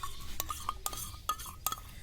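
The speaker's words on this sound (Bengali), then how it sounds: "এবার এটাকে এর মধ্যে মিক্স করে দেবো।" Christmas cake batter is mixed in a bowl, with a utensil clinking against the sides in a quick, regular rhythm of light, close taps.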